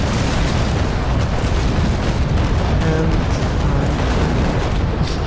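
Cannon broadside from the frigate Constitution in the naval combat game Naval Action booms in a sustained, rolling barrage of loud overlapping blasts filling the whole moment, with a brief word spoken at the start.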